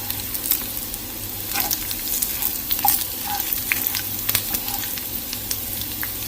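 Indian lentil tempering with red chili peppers frying in a pan gives a steady close crackling sizzle, with scattered sharper pops and spits over a continuous hiss throughout.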